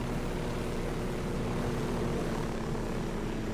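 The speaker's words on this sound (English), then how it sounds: "there's a helicopter there too" A helicopter in the video game Ghost Recon Wildlands drones steadily with a low rotor and engine hum, continuous and fairly loud throughout with no talk.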